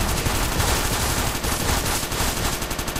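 Rapid machine-gun-like gunfire from the fire bullets power-up in the top-down shooter Crimsonland, a dense continuous stream of shots filling the whole stretch with no talking.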